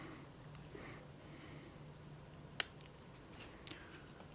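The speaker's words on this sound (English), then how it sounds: "I'll cut that." Wire is cut during a Digitrax SDXH166D decoder install: one sharp, crisp snip stands out, followed by a fainter click, against a quiet background with no speech.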